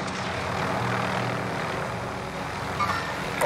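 A helicopter in the video game Call of Duty: Warzone gives off a continuous rotor-and-engine drone, steady and fairly loud, with a faint blip near the end.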